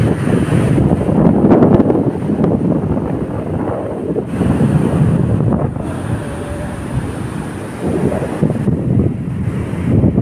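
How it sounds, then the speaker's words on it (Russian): Ocean surf and gusting wind on a beach in Sri Lanka, a continuous loud broadband rush with wind buffeting the microphone throughout and no talk. "Заходим ближе к морю, делаем 5 шагов. Я поворачиваюсь и показываю вам океан."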